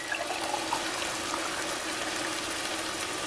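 A glass of hot water is poured into a pan of sautéed tomato paste, making a continuous close splashing and hissing rush throughout.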